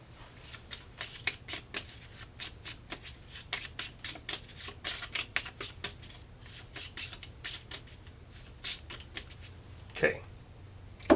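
A deck of game cards for a Massive Darkness 2 tabletop session is shuffled by hand, a rapid series of crisp riffling bursts close to the microphone, followed by a sharper clack near the end.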